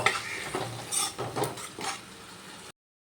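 Spice paste being sautéed in a pan for a Bengali fish roe dish with potato and eggplant, a few soft scraping stirs over a faint sizzle, quiet and close, ending abruptly.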